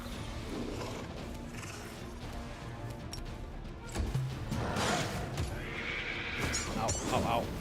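A horse neighs in the video game Pathfinder: Wrath of the Righteous, whinnying amid battle effects and whooshes, with someone talking over the sounds.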